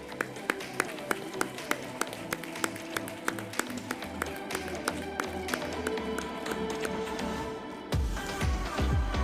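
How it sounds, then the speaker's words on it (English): At a G20 University Connect prize event at Andhra University, an audience claps steadily for the winners. Rhythmic claps ring out over the music for about eight seconds, then give way to a louder mixed burst at the end. "Guys, please clap."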